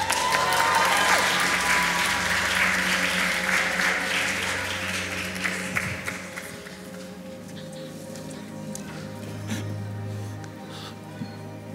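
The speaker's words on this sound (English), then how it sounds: "can we give that scene a round of applause?" A church audience at a family carol service claps loudly at first, then the applause gradually thins and fades to scattered claps and room noise.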